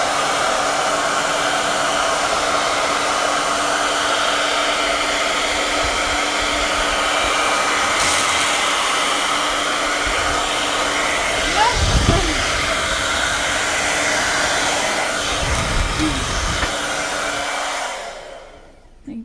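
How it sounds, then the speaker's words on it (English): A hair dryer blows steadily on a wet page for nearly twenty seconds, a continuous loud broadband whoosh with a few brief knocks and handling bumps near the end before it switches off. "I'll just quickly dry the page."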